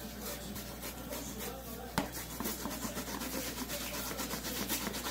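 Dough for Puerto Rican pasteles is grated on a hand grater in quick, continuous rasping scrapes close by, with one sharp knock partway through.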